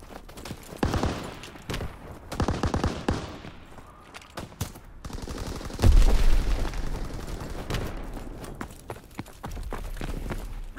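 Battlefield gunfire in Call of Duty: WWII, bursts of rifle and machine-gun shots in short volleys, a heavy boom near the middle, then continued firing under a low rumble.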